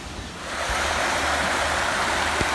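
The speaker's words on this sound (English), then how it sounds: "There's our waterfall down here at the corner of the creek." A small waterfall at the corner of a creek rushes steadily, a broad continuous splashing hiss heard close and even, with a faint low thump near the end and no talk.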